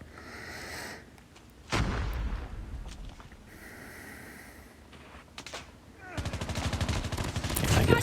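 Gunfire in Call of Duty Mobile, with sharp bursts of shots and a rapid rattling volley near the end, over background game noise and some talk.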